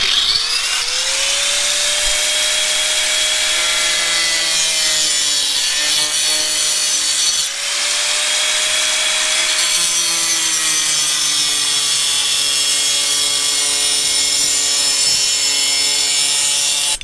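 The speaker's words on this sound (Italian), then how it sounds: "dovrebbe far sì che il plexiglass si taglia, non si spacca, ma si taglia bene." An angle grinder fitted with a cutting disc slices through a plexiglass sheet, giving a loud, steady high-pitched whine that dips in pitch under load, pauses briefly, then resumes cutting.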